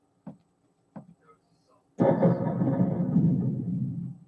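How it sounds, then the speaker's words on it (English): A steady roar of heavy rain with a low thunder rumble sets in abruptly after a few brief faint knocks, continuing loud and dense to the end. "It's raining, thunder and lightning."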